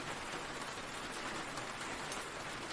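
Rain pours steadily on a cabin roof during a storm, a soft, even hiss of drops with no breaks or other sounds.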